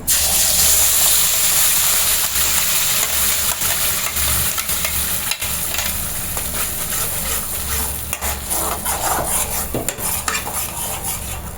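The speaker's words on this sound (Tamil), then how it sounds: "இப்போ அரைச்சி வச்ச பேஸ்ட்டை வந்துட்டு நம்ம சேர்த்துக்கலாம்" Ground masala paste sizzles and fries in melted butter for a Tamil-style butter egg curry, with a spoon stirring and scraping the pan steadily and loudly throughout, no talking.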